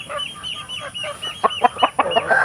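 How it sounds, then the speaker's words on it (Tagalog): Native chickens cluck close by in a quick run of short, repeated calls that grow a little louder and choppier toward the end, on a provincial farm. "nakakaparami na tayo ng manok na native yan"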